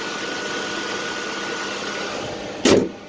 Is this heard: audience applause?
no